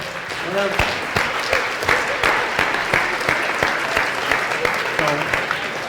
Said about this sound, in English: will you join me in a round of applause to the hotel?